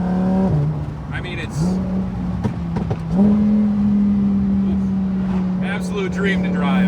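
Lamborghini Huracan Evo with dual-clutch gearbox, its engine and exhaust droning loudly and steadily with pitch rising through shifts, while someone talks over it from inside the car.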